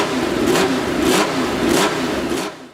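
A Ferrari 312T4 Formula 1 car with a 3.0-litre flat-12 engine revs loudly and close, rising and falling in about four quick, rhythmic surges before fading at the end.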